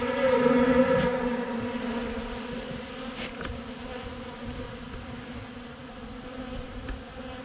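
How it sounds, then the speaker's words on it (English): Honeybees buzz in a steady droning hum, many insects close by, louder at first and then settling into a continuous background drone. "every hive has bees coming and going"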